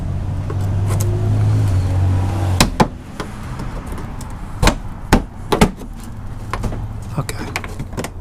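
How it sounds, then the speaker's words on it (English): A flathead screwdriver pries plastic clips and tabs loose from a 5th-generation 4Runner front bumper, giving sharp scattered clicks and knocks at close range after a low engine-like hum fades out. "we're gonna come back with a flathead screwdriver and pry up on these tabs to remove from the bumper"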